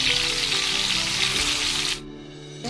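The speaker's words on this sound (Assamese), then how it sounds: "পটলখিনি বহুত বেছিকৈ ফ্ৰাই কৰিব নালাগে, অকণমান ফ্ৰাই কৰি লওঁ।" Pointed gourd (potol) frying in butter in a pan over a gas flame, a loud steady close sizzle that drops away near the end, with no talk.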